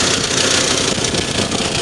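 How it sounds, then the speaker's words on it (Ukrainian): A tractor engine running during road repair near foggy fields: a steady, loud, broadband mechanical drone with no breaks, heard alone without speech. "Тракторець тут гребеться"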